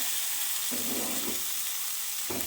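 Masala-coated jilabi fish frying hotel-style in a pan gives a steady, close hiss and sizzle of hot oil, with brief bubbling swells as the pieces are shifted.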